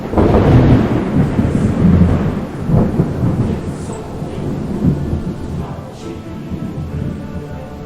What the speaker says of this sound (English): drop the lightning sound effect in there